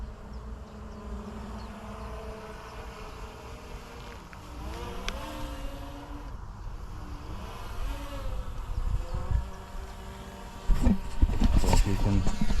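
A DJI Mini drone fitted with an ND filter buzzes in flight outdoors near a fence. The whine holds steady with shifting pitch sweeps and grows louder toward the end as it passes closer, with no talking.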